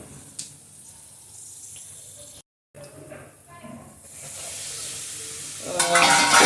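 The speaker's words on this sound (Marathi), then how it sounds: "मस्त कडकडीत तेल झालेलं आहे, त्यात मी आता हे आपले मसाले सोडले आणि हे जळू नये यासाठी मी थोडंसं पाणी सोडते" Ground spices for an Indian brinjal curry sizzle and crackle softly in hot oil, then a splash of water hits the pan and the hiss swells louder near the end.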